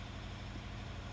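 Maxxforce diesel engine in a dozer idling steadily at operating temperature, a continuous low rumble with an even, close-up drone and no break throughout.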